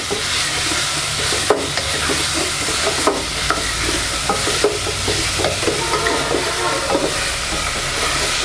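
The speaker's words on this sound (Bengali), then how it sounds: "এবার সকল উপকরণগুলো আমরা ভালোভাবে নেড়ে চেড়ে কষিয়ে নিব" Potato, egg and rice with salt and chilli powder fried and stirred in a pan, giving a loud, dense sizzle with a constant rumble and periodic sharp spatula scrapes and clanks throughout.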